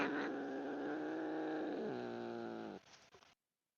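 A cat growls up close, a steady, rough, drawn-out growl lasting nearly three seconds that shifts pitch partway through, then cuts off, leaving a few faint rustles.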